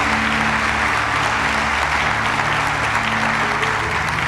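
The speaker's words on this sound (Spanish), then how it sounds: "denle aplauso al Rey de Reyes." A church congregation applauds loudly and steadily, dense clapping filling a hall at a worship service, with a sustained musical drone underneath throughout.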